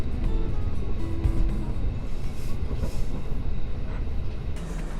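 Regional train pulling into Villach main station in Austria at the end of the line, a steady, fairly loud rumble of rolling wheels and carriage noise throughout, with no talking.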